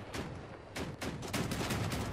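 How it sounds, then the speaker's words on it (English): Rapid bursts of gunfire from armed vehicles in the combat game Crossout, fairly loud and repeated over about two seconds with no talk. "of course there's someone shooting at me!"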